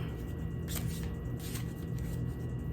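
A deck of crystal-themed cards gets a light shuffle, soft papery riffles and rubbing in a couple of faint bursts over a steady low hum, close by and quiet.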